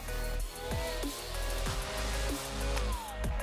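A 42V cordless electric grass trimmer running on its low setting gives a steady, close motor whine with a humming drone, dipping briefly in pitch every second or so.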